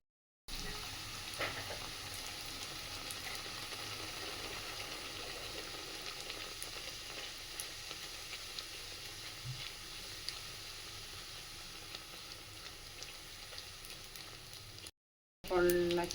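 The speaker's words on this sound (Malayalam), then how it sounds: "ഇനി എണ്ണയിൽ ചുട്ടെടുക്കുക." Bhatura dough rounds deep frying in hot oil, a steady close bubbling sizzle running throughout, briefly cut off near the end.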